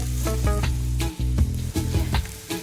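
Eggplant fries in a very hot pan with a loud, crackling sizzle, broken by repeated scraping and stirring clatter, with no talk.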